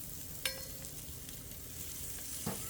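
Potatoes frying in oil in a pan: an even, continuous sizzle with a couple of soft clinks or stirring knocks, heard close up and without talk.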